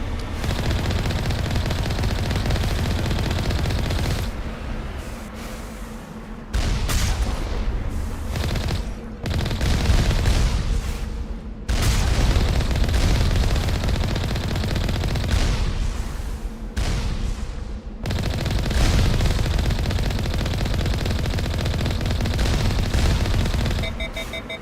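Sustained turret and sniper gunfire in Mass Effect, heavy continuous bursts and booms filling nearly the whole stretch, with a few brief gaps between volleys.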